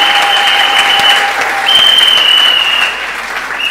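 A church congregation claps and cheers loudly, an unbroken burst of applause that eases slightly toward the end, with a high held tone running over it.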